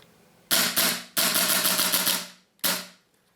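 A WE Makarov Baikal gas blowback airsoft pistol cycles empty on gas, giving four sharp, snappy slide clacks close by, two quick shots, a longer rattling burst, then a single final crack, with no voices.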